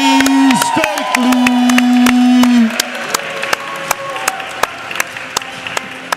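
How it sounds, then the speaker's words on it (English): A crowd at a wrestling match applauds the winner, with scattered sharp claps under a loud sustained tone in the first half, then lighter, sparser clapping. "let's give a round of applause for your winner, Mr. Cody Stakely."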